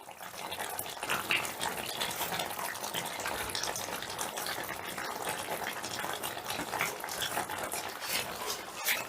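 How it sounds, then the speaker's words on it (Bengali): Chicken korma with its spice mix and fried onions is stirred in a pot, giving a continuous wet, gushing churn with soft scraping and sloshing that runs steadily, close and moderately loud, without any talk. "এবারে সমস্তটা ভালো করে মিশিয়ে দিচ্ছি।"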